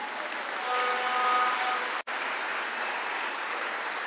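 A church congregation applauds in a steady wash of clapping that swells slightly, breaks off for an instant midway, then resumes and continues evenly.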